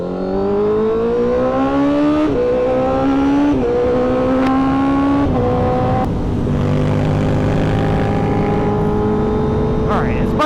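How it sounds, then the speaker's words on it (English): A motorcycle running again after stalling while riding in New York, the engine droning steadily and close with gear shifts and rising revs through several climbs, wind noise around it, while people talk over it. "his bike is back up and running"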